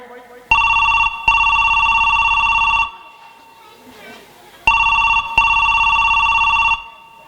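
A mobile phone rings loudly in two bursts, each a pair of steady electronic tones with a brief gap between, separated by a quiet stretch of faint background.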